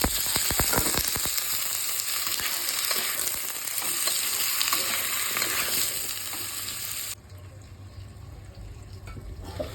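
Pumpkin and potato pieces are dropped into a pan of browned onions, starting with a burst of loud sizzling and stirring clatter that settles into steady frying hiss, then drops sharply as a lid goes on.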